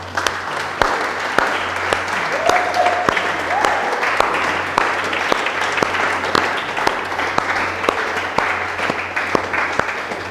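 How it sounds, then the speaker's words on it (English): Sparse audience clapping fills the room at a city business numerology session, with scattered hand claps rising above a steady hum and a few brief vocal tones. "clap your hands for yourself"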